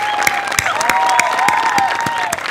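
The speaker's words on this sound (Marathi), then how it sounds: "सगळ्यात जास्त टाळ्या झाल्या पाहिजेत आज बनेसाठी." Studio audience applause at a Marathi comedy show, dense steady clapping throughout with sharp individual claps standing out and a faint sustained tone underneath, loud and close.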